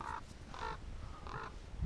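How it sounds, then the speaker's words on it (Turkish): A large crow caws overhead outdoors during a metal-detecting treasure hunt in Turkey, three loud harsh calls spaced evenly about half a second apart, clear and close with no talk over them. "Bu sefer de karga sesi geliyor"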